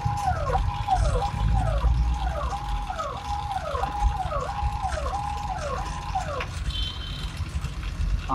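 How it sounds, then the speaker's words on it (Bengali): An ambulance siren heard from inside the vehicle, wailing in a regular rising-and-falling cycle about eight times, loud and close over a low engine rumble. "আপনারা নিশ্চয়ই অ্যাম্বুলেন্সের আওয়াজ শুনতে পাচ্ছেন।"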